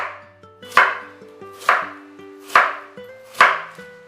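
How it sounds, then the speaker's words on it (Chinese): Knife chopping white radish into strips on a board, four sharp, evenly spaced chops about a second apart, each ringing briefly, close and clear with no talk. "10斤白萝卜去头去蕊后清洗干净，先切圈，再切成条"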